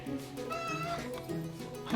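A cat meows in a Schrodinger's Cat parody ad, one drawn-out, clear meow near and alone, followed by softer mewing sounds.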